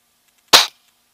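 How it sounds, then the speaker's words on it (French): Single sharp crack of an air rifle firing a pellet through a scope, brief and loud, standing alone in silence. "J'ai envoyé une bastos"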